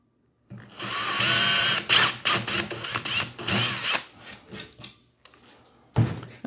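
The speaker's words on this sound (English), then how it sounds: "Drill the other side." A power drill bores through half-inch closet board in several short bursts of varying length, close and loud, with brief pauses between runs.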